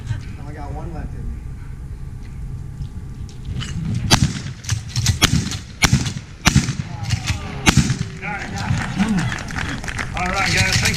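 Shotgun blasts crack out during a clay target shooting demonstration, a run of loud sharp reports spread over several seconds amid outdoor noise and voices talking.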